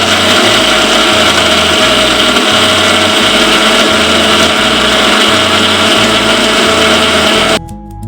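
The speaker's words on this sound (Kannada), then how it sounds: "ಎರಡನ್ನೂ ಸಹ ಮಿಕ್ಸಿ ಮಾಡ್ಕೊತಾ ಇದ್ದೀನಿ. ಸ್ವಲ್ಪ ನೀರು ಹಾಕ್ಕೊಂಡು ಮಿಕ್ಸಿ ಮಾಡ್ಕೋಬೇಕು ಸಣ್ಣಗೆ." A kitchen mixer grinder runs loud and steady, blending soaked ragi and coconut with a little water, its motor whirring in a pulsing drone that cuts off just before the end.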